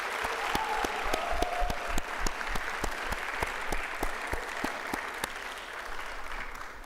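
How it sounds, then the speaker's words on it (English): Audience applause for the staff at a Paul Quinn College Founder's and Honors Day convocation: a steady round of clapping with distinct rhythmic claps standing out, sustained and fading slightly toward the end. "Can we have one more round of applause for our amazing staff?"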